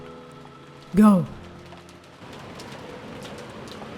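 Rain falls in the visual novel game Umineko When They Cry. A short voiced cry comes first, then a soft, steady patter of rain sets in and keeps going.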